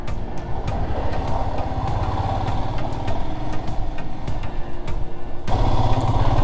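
A Royal Enfield Himalayan motorcycle engine runs at a steady idle-like drone on a mountain road trip, a continuous close rumble with faint ticking and a slight swell near the end.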